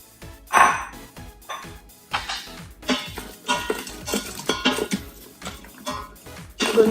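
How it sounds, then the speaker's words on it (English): Broccoli tipped into a dry pan and stirred for a broccoli soup, giving a run of close clattering knocks and scraping clinks of utensil on cookware, loud bursts at the start and end with steady stirring between. "I'm gonna add the broccoli."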